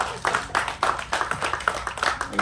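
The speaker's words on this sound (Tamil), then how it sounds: "தயவு செஞ்சு நீங்களே ஒரு தடவை கைத்தட்டுங்க" An audience at a Tamil film event for Thookku Durai claps at a speech, giving a run of sharp, close handclaps at a steady, fairly even rhythm that stays loud from start to finish.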